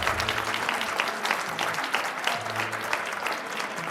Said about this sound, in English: how about a round of applause for all of our sponsors today?